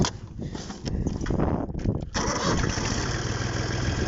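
A tractor engine, an Altaets 75, cranks over with uneven chugging, then catches and settles into a loud, steady idle close by.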